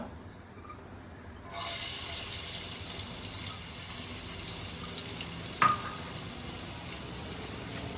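Chopped onion hits hot oil in a pan for a crab curry, a sudden sizzle rising from quiet into a steady close hiss, with a brief knock of a utensil partway through.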